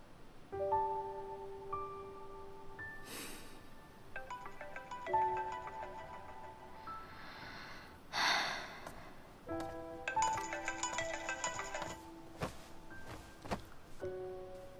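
A phone ringtone plays a repeating melodic tune in clear chiming bursts across the whole stretch, fairly quiet and alone, with a few short clicks between the phrases.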